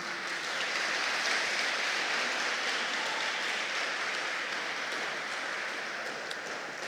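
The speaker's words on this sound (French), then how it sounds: "Je vous demande, chère Assemblée, de bien vouloir applaudir vos enfants." A church congregation applauding graduates at a thanksgiving Mass for a school class, an even, sustained roar of many hands clapping that holds steady and carries through the space.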